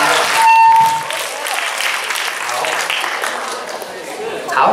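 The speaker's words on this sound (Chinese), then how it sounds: "来大家给大家给他们一个热烈的掌声吧" An audience claps warmly for volunteers during a student magic act at a farewell show. Moderate clapping runs under talk, with a brief beep-like tone near the start.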